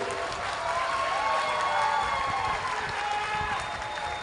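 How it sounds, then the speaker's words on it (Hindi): Sustained crowd applause with some cheering at an outdoor BJP political rally in Vasai, Palghar, steady and fairly loud throughout, no speech over it. "जोर से ताली बजाओ हेमंत जी के लिए।"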